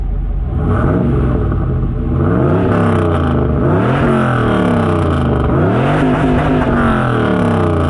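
A fourth-generation Pontiac Trans Am revs hard through first gear and shifts into second, its engine note climbing in loud repeated sweeps that drop and rise again at each shift, close and with no talk over it.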